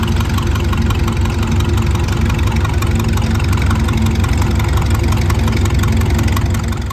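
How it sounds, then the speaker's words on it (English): A Beaver tractor engine idles at a steam-era show, a steady, loud low-pitched rumble with an even mechanical throb and faint knocking that holds for the whole stretch. "Pretty neat tractor."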